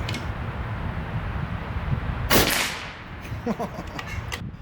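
A single sharp crack from a Karma Red Panda PCP air rifle fired at a bench-rest range, loud and close, standing out against steady background noise with faint clatter after it.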